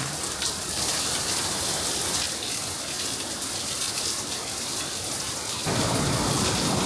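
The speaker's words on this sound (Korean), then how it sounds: "이제 집으로 가는 날 아침부터 폭우가 쏟아집니다" A heavy morning downpour in Singapore, with dense, steady rain hissing and drumming close by for the whole stretch and growing slightly louder near the end.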